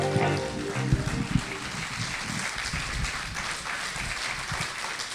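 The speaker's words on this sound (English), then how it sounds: "how about a huge round of applause?" Audience applause at a live storytelling show, a fairly quiet, steady patter of clapping from a modest room with a few louder claps near the start.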